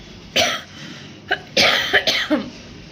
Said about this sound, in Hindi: खांसी इतना तेज़ हो रहा है कि खांसते खांसते उल्टी भी हो रहा है